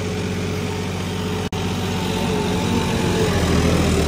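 A John Deere 5210 tractor engine with a power upgrade running steadily at 2000 rpm, a loud continuous diesel drone with a low throbbing hum, close by and unbroken.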